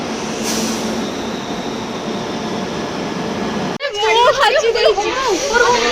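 Continuous rumbling hum of a train interior, steady and fairly loud, then a sharp cut to chattering voices over the ongoing background noise.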